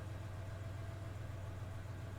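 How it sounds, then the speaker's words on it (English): A steady low engine rumble idles continuously, droning evenly without clear revs; a truck engine in the video game 428: Shibuya Scramble. "I hear the sound of an engine revving outside."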